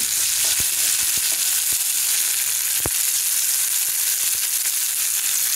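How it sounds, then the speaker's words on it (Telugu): Chopped ginger frying in hot oil, a continuous close sizzle with a few sharp pops and stirring clicks, no voices. "ఆయిల్ వేసుకొని పచ్చివాసన పోయే వరకు అల్లం వేయించుకోవాలండి"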